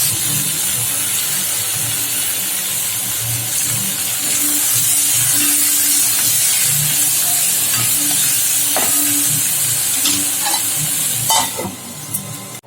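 Onions sauté in a pan for a spicy onion chutney made without coconut, producing a loud, continuous hissing sizzle close up, with a few clicks and knocks toward the end and no voices.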